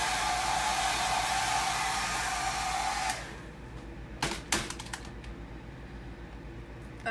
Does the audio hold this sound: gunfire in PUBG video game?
no